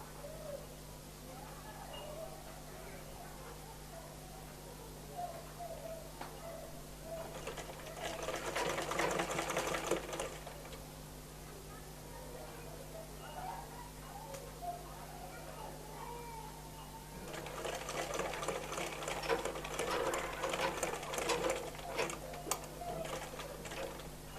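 Sewing machine stitching baby frock fabric, folding extra cloth at the zipper side; two steady bursts of close mechanical whirring separated by a quieter pause with faint handling noise.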